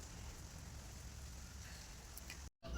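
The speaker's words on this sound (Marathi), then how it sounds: "खूप दिवसांनी पाऊस आला, पण असाच रिमझिम रिमझिम चालू आहे." Light drizzling rain falls on wet ground as a faint, even patter that stays steady throughout, with a brief dropout near the end.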